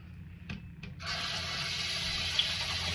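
A sink tap opens with a gush for rinsing the face, then water runs steadily into the basin at close range after a couple of soft knocks.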